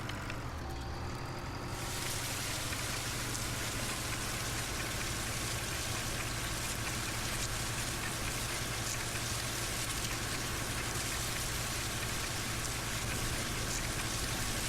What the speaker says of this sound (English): And now the wonderful day-night cycle is raining.